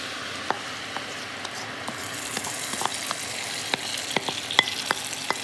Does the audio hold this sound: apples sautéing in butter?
yes